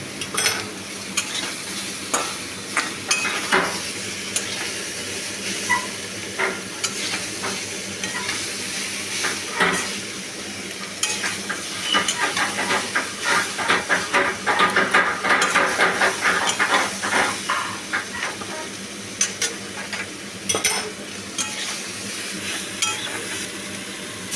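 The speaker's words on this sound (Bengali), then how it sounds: "শুকনো লঙ্কার গুঁড়ো দিয়ে ভালো করে ছিঙে দিয়ে দিলাম মাছের ডিমগুলোকে ভেজে নিচ্ছি" Fish roe fries in a pan with dry chili powder, a steady close sizzle running throughout with frequent scraping stir strokes, growing busier and louder near the middle.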